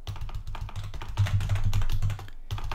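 Rapid typing on a computer keyboard, a steady run of close, crisp key clicks with a few short pauses and no talking.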